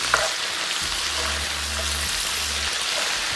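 Tofu and stir-fry vegetables tossed in a hot pan, with a loud continuous sizzle and scraping stir strokes running through, plus a low hum underneath.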